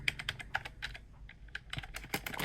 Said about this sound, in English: The keys do give off a slightly different noise